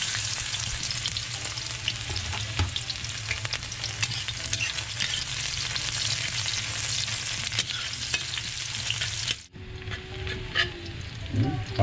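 Softshell turtle meat and aromatics sautéing in hot cooking oil, a loud, close, continuous sizzle with scraping stirs that drops out abruptly near the end before faint crackling resumes.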